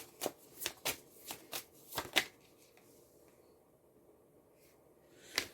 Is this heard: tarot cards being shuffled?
yes